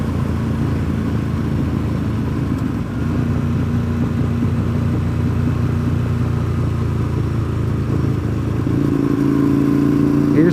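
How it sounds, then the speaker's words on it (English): Motorcycle traffic on a road heading toward Deals Gap, a steady loud engine drone throughout, rising slightly near the end as bikes rev. "As you can see by all the motorcycle traffic in front of us"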